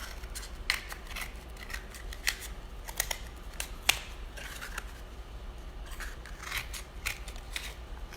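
Scissors cutting a cardboard toilet paper roll, a run of quiet, crisp snips at an uneven rhythm, close up with no talking.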